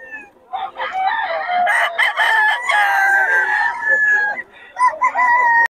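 A rooster crows repeatedly at a busy poultry market in Bocaue, a full-grown stag, its long harmonic calls loud and close with brief gaps between them.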